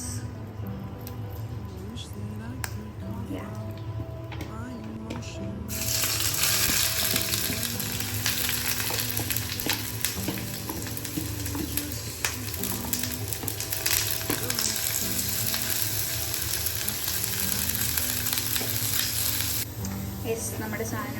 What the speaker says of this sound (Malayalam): ലേശം വെളിച്ചെണ്ണ ഒഴിക്കാം.